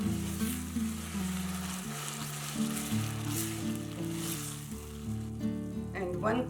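A pineapple and coconut ladoo mixture with canned crushed pineapple is stirred in a hot pan, giving a soft sizzle and gentle scraping under a continuous tonal background, with a sharper clatter near the end.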